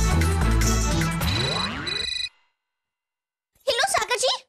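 A telephone rings during a call being placed in a Hindi TV serial scene, heard as a busy, tonal ringing for about two seconds, then near silence before a voice speaks.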